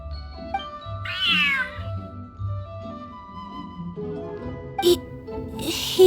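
Cat meowing in a video game: a rising-and-falling meow stands out over a steady low game soundtrack, followed by softer game noises and brief effects.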